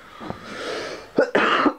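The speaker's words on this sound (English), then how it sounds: "And I have this kind of hacking cough." A few rough, hacking coughs close by from a person with a fever near 39°C, the last two harsher and louder, over a faint background hiss.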